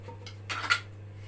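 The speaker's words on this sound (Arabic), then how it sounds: "انا بقطعها كده بتنزل معايا وهي متلجه بسرعه" A knife cuts quickly through frozen mango slices, giving a couple of close, brief scraping and knocking cuts against a low, steady background hum.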